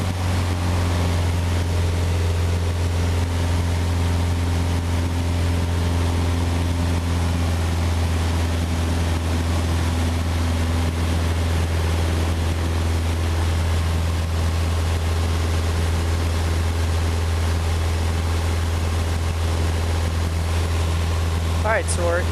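A Xenos motorglider's engine and propeller drone loudly and steadily in flight at reduced power, a constant low tonal hum filling the cockpit.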